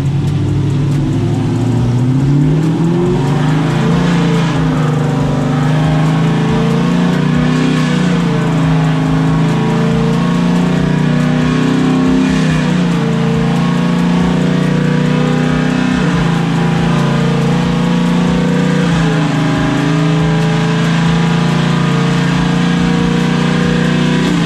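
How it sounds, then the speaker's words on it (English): A Camaro SS with headers runs on a dyno, its loud engine droning and revving steadily for a long stretch without pause. "You've seen it, it's on the dyno right now."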